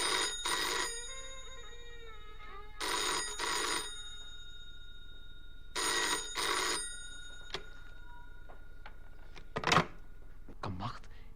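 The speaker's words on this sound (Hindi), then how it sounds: "कमबख्त, टेलीफोन को भी इसी वक्त आना था।" A telephone bell rings in three repeated bursts, loud and close, with short pauses between rings, followed by a few faint clicks and knocks in the room of a Hindi radio drama.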